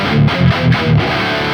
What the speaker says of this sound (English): Let's choose a 184 condenser.